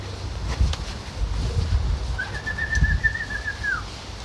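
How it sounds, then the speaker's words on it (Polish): Outdoor ambience with soft pigeon sounds, a few brief wing flutters, and a steady whistle-like tone near the end; cooing is not clearly distinct. "Są następne gołębie."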